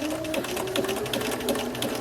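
A domestic sewing machine running a narrow zigzag stitch along a dress seam, a steady fast mechanical whir with rapid rhythmic needle ticking, close and continuous.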